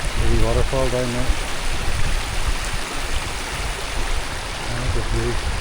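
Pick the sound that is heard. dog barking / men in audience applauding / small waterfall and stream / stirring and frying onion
small waterfall and stream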